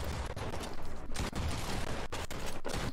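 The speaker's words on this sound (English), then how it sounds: "we got a bunch of people sniping at me" Gunfire in the video game Fortnite crackles as a quick series of sharp shots, some of them sniper fire, against a dense background of match noise, fairly faint overall.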